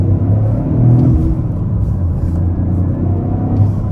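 A 2024 Toyota GR Corolla pulls hard in second gear after a rev-matched shift, its engine a steady close rumble from inside the cabin with slight pitch rises, no talking over it.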